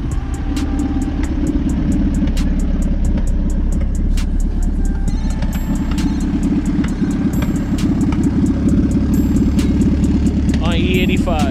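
A Honda Civic EG with a turbocharged B20V engine running on E85 holds a steady, close, loud engine rumble throughout, with no revving peaks.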